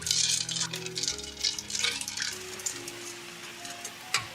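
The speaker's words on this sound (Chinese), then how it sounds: "搅拌至冰糖融化" Rock sugar is stirred in water in a pot, with soft clinks and scraping of the spoon over a steady gentle sizzle and hiss, close up and with no talk.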